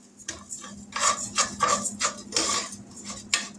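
Dry Rice-A-Roni rice and noodles are dumped into a metal cooking pan, giving a close series of rattling, scraping pours and clatters in short uneven bursts, with no talking.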